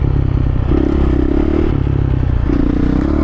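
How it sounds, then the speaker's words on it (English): A dirt bike engine braking off the throttle while held in a wheelie, a loud, steady low drone with crackling and rattling over it and slight shifts in pitch as the rider comes off the gas. "hopefully you guys can hear whenever I'm off the gas, and it should sound just like regular engine brake, but within your wheelie"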